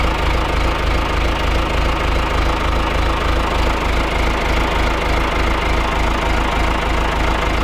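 A John Deere 1640 MFWD tractor engine idles loudly and steadily nearby, with an even, rapid chugging rhythm and no voices.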